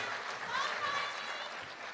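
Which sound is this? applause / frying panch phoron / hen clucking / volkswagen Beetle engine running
applause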